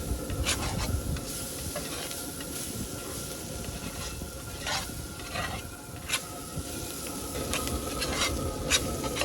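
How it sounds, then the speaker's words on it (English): Food sizzles steadily in a hot pan while a utensil rakes it back together, with scattered clicks and scrapes over a constant crackling hiss, close by and with no talking. "Now we're going to rake that all back together and finish cooking them down"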